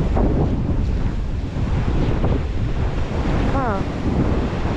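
Crashing sea waves and heavy wind buffeting the microphone during a typhoon near a boat, a loud continuous roar with a brief voice calling out.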